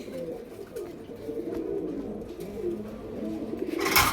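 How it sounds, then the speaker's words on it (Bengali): Pigeons in a large loft collection coo in low, soft, overlapping throaty calls throughout, with some shuffling and a brief louder rustle at the end. "একে একে কবুতর গুলা দেখাই আজকে ভাই, প্রচুর পরিমাণে কবুতর থাকবো।"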